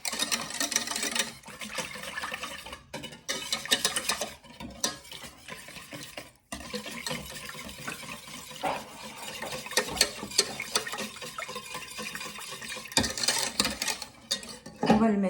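Ingredients for a lemon meringue tart being mixed in a bowl, with steady scraping and clinking of a utensil against the bowl that runs almost without a break, close and fairly loud, with a couple of short pauses.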